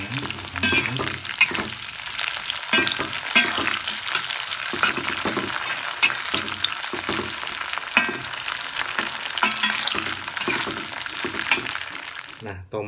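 Chilies sizzle and fry in oil in a pan while being made into sambal terasi, a steady crackling hiss broken by repeated scrapes and stirring clatters, with brief voice in the background.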